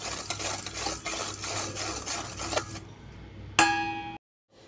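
Sugar, salt and cumin stirred in a pan, a spoon scraping and rubbing in a steady rhythm, then a brief metallic clang near the end.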